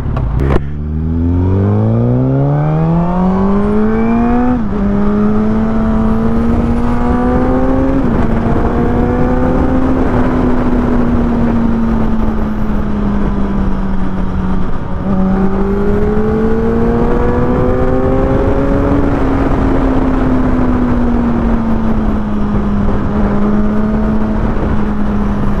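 Motorcycle engine, a Suzuki GSX, pulling along a road in Kenya, loud and continuous, rising through the gears with shifts every few seconds, heard alone.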